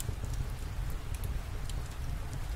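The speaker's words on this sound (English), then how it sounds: "listening to the rhythmic patter of raindrops" Rain patters steadily on a surface near a cozy homestead, a dense, even wash of drops with occasional sharper ticks, continuous and close, with no voices.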